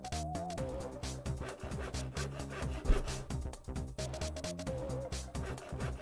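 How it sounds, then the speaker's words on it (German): A sawmill saw runs in the video game Eco, giving a steady rhythmic rasping and grinding cycle with repeated knocking beats, moderately loud and continuous, with no talk. "Sägemühle arbeitet"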